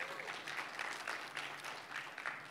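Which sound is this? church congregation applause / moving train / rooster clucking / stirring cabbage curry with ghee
church congregation applause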